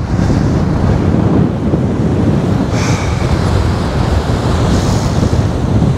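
Waves of the Azov Sea rolling onto a Crimean beach, a continuous loud roar of surf heavily mixed with wind buffeting the microphone.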